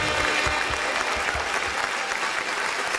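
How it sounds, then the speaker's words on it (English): Audience in a convention hall applauding, a dense, steady wash of many hands clapping at close range throughout, with no voices standing out. "Please give them a big hand of applause."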